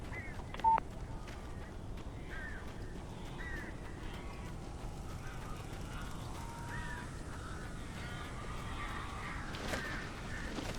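Crows caw repeatedly in Alan Wake Remastered, a series of harsh, evenly spaced calls over a low, steady ambient rumble, with a brief electronic beep near the start.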